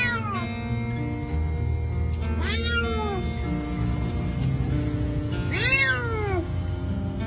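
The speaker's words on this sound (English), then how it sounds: "I received a call that people would hear meowing in the pit" A small kitten stuck down a drain pit meows twice in plaintive, drawn-out cries over a steady background hum.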